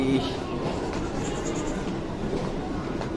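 A train rumbles and clatters steadily nearby as it arrives at Borivali station, Mumbai, with a brief squeal of wheels at the start.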